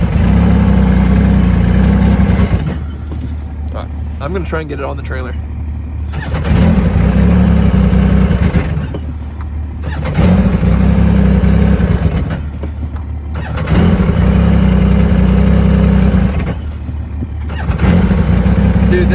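A 2020 Yamaha YXZ1000R fitted with a GYTR turbo kit idles loudly and roughly up close, its engine note dipping and surging in repeated cycles with brief lulls, while someone talks briefly over it.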